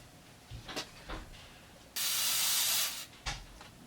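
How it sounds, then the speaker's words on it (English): Carb cleaner sprays onto a part from a Husqvarna 394XP chainsaw during a rebuild. One close, steady hiss lasts about a second, with faint clicks and handling noises around it. "Hit it with a carb cleaner."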